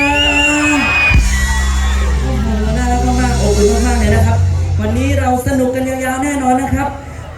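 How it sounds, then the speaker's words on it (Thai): A loud concert crowd screams and cheers continuously, with music and amplified voices ringing over the roar, at Wat Krok Krak in Samut Sakhon, Thailand. "ขอเสียงกรี๊ดดังๆให้กับผมหนึ่งรอบได้ไหมจ๊ะ"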